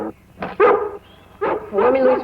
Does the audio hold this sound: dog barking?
yes